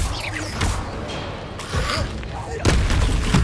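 Incendio fire spell cast in Hogwarts Legacy combat, heavy whooshing blasts and booming impacts in several surges, with a voice talking alongside.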